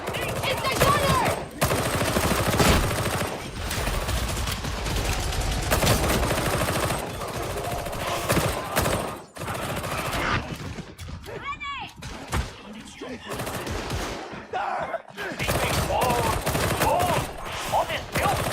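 A gunner's weapon firing in Warhammer 40k Darktide, sustained loud automatic bursts filling most of the stretch, broken by short pauses, with game voices talking over the shooting.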